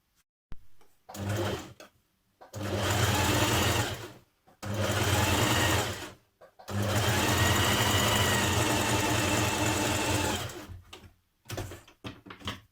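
A sewing machine sews down a strip of thick coat fabric in several bursts of steady humming stitching, separated by short quiet pauses, loud and close.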